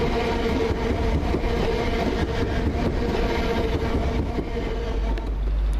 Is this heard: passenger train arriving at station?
yes